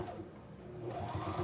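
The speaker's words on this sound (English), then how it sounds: "Just going to go all the way around, and this is top stitching," A sewing machine runs steadily close up while top stitching around the edge of fabric, a continuous fast mechanical whir without pause.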